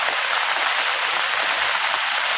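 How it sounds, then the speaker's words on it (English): Heavy rain pours down steadily after falling since the previous evening, a continuous dense hiss close by with no voices. "It has been raining since yesterday evening."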